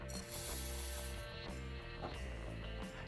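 A Kinu M47 Classic hand grinder cranks through a 25 gram dose of lightly roasted coffee beans at a coarse Chemex setting, giving a close, continuous crunching grind with rhythmic ratcheting turns.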